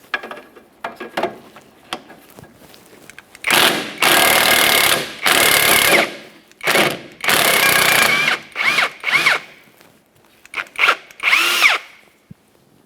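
A power tool on a rusty Jeep Patriot loosens the 13mm nuts of a rear sway bar link in several loud, close bursts of whirring and rattling impact, separated by short quiet gaps and lighter clicks, with no speech.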